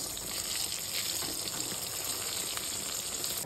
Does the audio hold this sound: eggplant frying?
yes